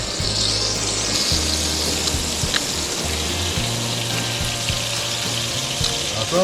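Meat sizzling and frying in a pan, a steady crackling hiss running throughout at close range, with low background hum and faint kitchen clatter.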